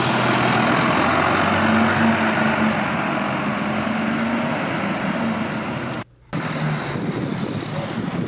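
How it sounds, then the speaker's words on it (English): A Hedingham bus idles at a set of traffic lights in Clacton-on-Sea, then pulls away around the corner, its heavy diesel engine a steady low rumble with a faint tonal whine, continuous and fairly close, no talk. "Just pausing here at a set of traffic lights, and then we'll just see her pulling away around the corner."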